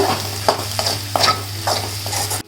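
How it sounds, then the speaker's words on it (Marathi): Egg bhurji is stir-fried in a pan, a loud close sizzle with rhythmic spatula scrapes every half second or so over a low steady hum, no voices. "आता भुर्जी परतून घेते पाच मिनटं कुकेपर्यंत"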